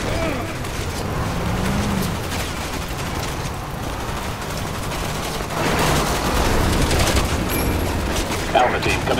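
Sustained gunfire and bursts of automatic fire in the video game Resident Evil 6, loud and dense throughout, with occasional booms and voices in the mix.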